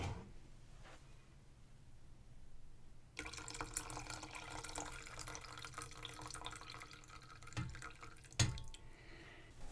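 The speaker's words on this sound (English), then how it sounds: "I think I'm going to strain it and put it into the broth that I cooked with the water and the spices" Pineapple juice strained into a pot of cooked pork broth with spices, a steady close trickling pour that starts after a few seconds and runs on continuously, with a couple of small clinks near the end and no talking.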